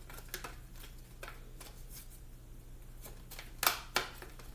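Tarot cards are shuffled by hand in a quiet room, soft papery riffles and taps recurring irregularly, ending with two louder crisp snaps over a low steady hum.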